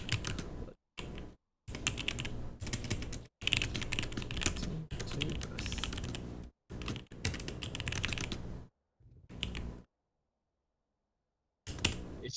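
A computer keyboard clatters in quick, close bursts of typing, broken by short pauses and one longer stretch of silence.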